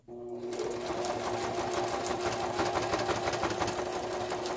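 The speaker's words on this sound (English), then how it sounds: "The sewing machine is struggling a little bit" A sewing machine runs steadily at high speed, its motor humming with a rapid mechanical stitching chatter throughout, fairly close and continuous.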